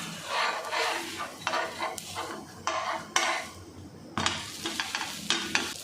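Millet dosa being flipped on a hot pan, a steady close sizzle with repeated spatula scrapes and taps against the metal, irregular in rhythm, no voices.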